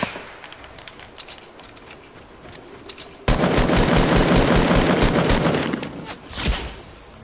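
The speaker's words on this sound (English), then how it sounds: "I'm getting shot at" Video game gunfire aimed at the player: a quiet patch of scattered shots, then from about three seconds a loud, sustained burst of rapid automatic fire that swells once more near the end.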